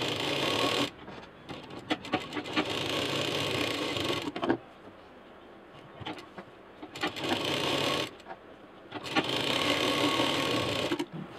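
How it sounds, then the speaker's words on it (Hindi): A sewing machine stitches fabric for a tiffin case in bursts of steady mechanical whirring, pausing between runs, close and fairly loud with no talk. "और अब हम सिलना शुरू करते हैं।"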